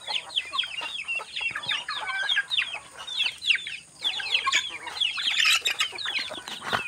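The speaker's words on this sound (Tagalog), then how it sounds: "Doon yung ibang manok." Backyard chickens cluck busily at close range in a steady, overlapping stream of short calls, with occasional wing flaps; no one talks over them.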